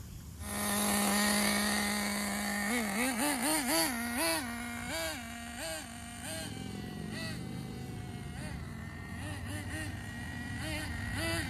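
A HotBodies Tornado nitro RC car engine catches and revs in sharp, buzzy bursts, then settles into a steady high-pitched idle. It runs loud and close the whole time, with no talk over it.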